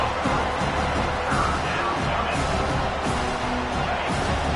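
A large stadium crowd in the college football video game NCAA 25 roars steadily at a constant loud level, a dense wash of cheering and noise that swells slightly in places, with no clear individual voices.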